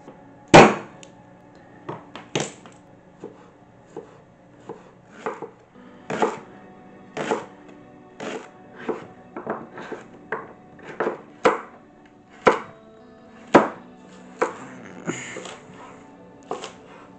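Knife chopping butternut squash, carrot, leeks, kale and garlic on a board, heard as a series of sharp, close, irregular thuds spaced about a second apart.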